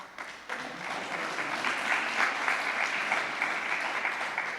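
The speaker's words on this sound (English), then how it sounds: "That's why he was giving her a little clap." Applause from a crowd at a ribbon cutting ceremony for the Brockton War Memorial Building: dense, steady clapping that starts abruptly and keeps going at moderate distance, fairly soft overall.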